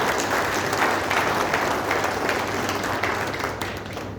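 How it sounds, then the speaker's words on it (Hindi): An audience at a 50th foundation day celebration claps in sustained, dense applause, close and loud, holding steady before easing off slightly at the end. "आप तालियां बजाकर सेलिब्रेट कर लीजिए।"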